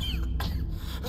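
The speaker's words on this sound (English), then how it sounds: "why is he coughing?" A character in the video game Habilis gives a couple of short, quiet coughs against low background game ambience.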